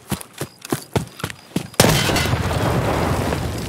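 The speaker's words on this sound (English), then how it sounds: "That's a grenade!" A grenade detonates in Escape From Tarkov, a sudden loud blast that leaves a dense, sustained roar of debris and ringing, coming after several short, sharp thumps.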